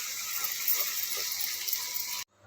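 Tamarind water poured into a pot of pumpkin curry, a steady broadband splashing gush that runs for about two seconds and then stops abruptly, close and fairly loud.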